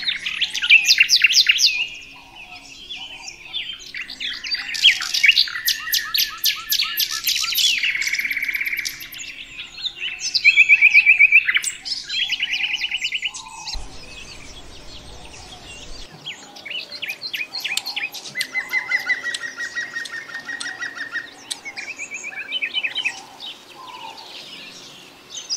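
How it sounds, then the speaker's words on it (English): Forest birds sing and chirp in bright, repeated trills and tweets, several songs overlapping near and clear, then thinning into scattered calls against a quiet background. "the beautiful birds whose songs were the very fabric of the forest"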